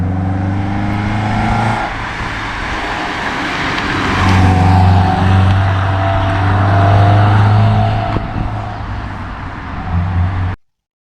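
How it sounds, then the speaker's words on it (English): A 1996 Alfa Romeo 155 widebody engine rumbles loud and close, holding a steady idle before swelling into stronger revving that rises and settles again, with no voices. "The Alfa Romeo in the video is from 1996 and is a wide-body model."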